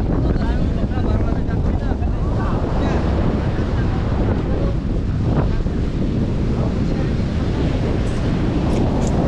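Strong wind buffets the microphone on a small fishing boat at sea, a loud, constant roaring rush with water and waves beneath, and people talking faintly under it.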